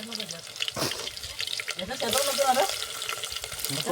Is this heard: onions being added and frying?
yes